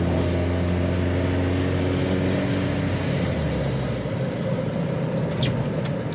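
A Volvo 240 with an AW70 automatic transmission kicks down while driving, the engine note holding loud and steady then shifting pitch as the gear drops, under constant road and cabin noise, no talking.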